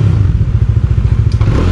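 A 2019 Bajaj Dominar 400 motorcycle with its stock exhaust burbles at low revs, a close, loud, even pulsing thump from the pipe with a faint clatter near the end.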